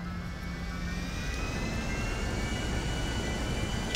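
Airplane engine roaring steadily in flight in Grand Theft Auto 5 on PC, a loud, constant jet-like drone with a slowly rising whine, no voices over it.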